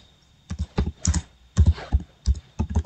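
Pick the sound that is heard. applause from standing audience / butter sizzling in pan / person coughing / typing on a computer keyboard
typing on a computer keyboard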